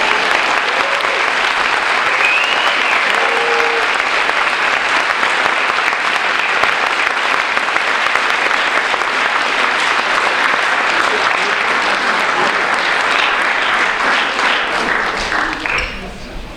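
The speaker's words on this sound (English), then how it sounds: "you guys may applaud everyone's speech" Sustained applause from an audience at a National Honor Society induction follows the seniors' speeches, a thick, even roar of many hands lasting well over fifteen seconds before tapering off at the end.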